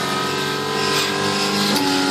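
Race cars in the F-1 arcade video game roar with a steady, continuous engine drone over 2 seconds. A second engine tone cuts in near the end. The sound is loud and close, with no talk.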